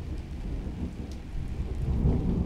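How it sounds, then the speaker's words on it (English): Rain pours steadily with low rumbling thunder rolling underneath in the Five Nights at Freddy's 6 video game, loud and continuous and swelling slightly toward the end, with no voices. "There's thunder and there's rain."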